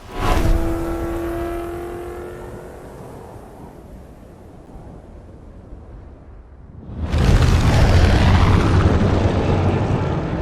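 A Porsche in the racing game Forza Horizon 5 drops out of a plane, its engine roaring loudly with rushing wind, easing to a steady drone before surging into a loud, sustained full-throttle roar.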